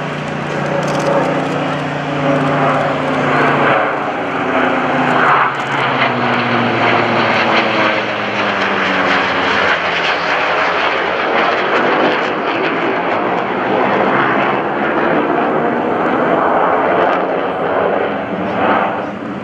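Loud aircraft engines of a World War II Curtiss Helldiver piston warplane and a US Navy F/A-18 Hornet jet roar past at an airshow, a propeller drone with rising and falling pitch blended with a jet's broadband rush, sustained throughout.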